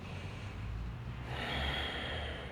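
A slow, deep inhale during a gentle yoga stretch, soft airy breath sounding close and steady with a low background hum, no talking.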